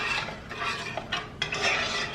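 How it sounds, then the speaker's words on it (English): Keto Mexican recipe ingredients, seasoned with pure sea salt, are stirred together in a pan. A steady scraping swirl of utensil against cookware runs throughout with a few light clinks, fairly close and with no talking. "I'm gonna go ahead and just kind of mix everything together."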